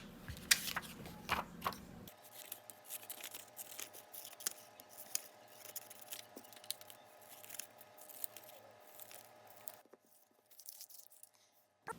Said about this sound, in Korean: 저는 제 가위를 좀 사용해 볼게요